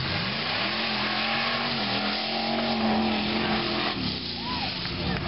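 A race car engine roars steadily as the car comes around the track, holding a loud sustained drone with slight pitch shifts near the end.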